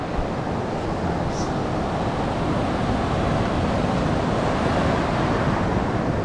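Yaara River water runs over the top of its bank in a steady, dense rushing wash. It stays close and unbroken, with a faint breezy hiss and no voices.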